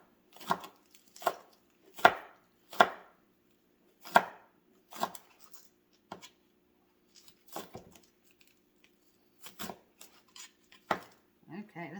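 A knife chops squash tops on a cutting board in a home kitchen, with a rapid run of sharp, distinct strikes followed by slower, scattered taps and clicks.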